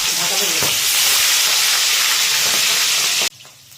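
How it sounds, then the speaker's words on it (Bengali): Fish heads fry in hot mustard oil with a loud, steady sizzle and hiss that continues throughout, then cuts off abruptly near the end, leaving quieter room sound. "এখানে তো মাছের মাথাটা তো আমাদের ভাজা চলছেই"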